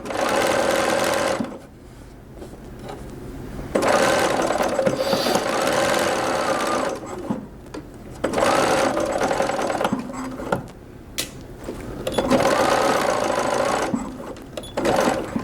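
A sewing machine stitches a fabric Halloween witch hat in loud, fast whirring runs that stop and restart several times, with short quiet pauses between bursts.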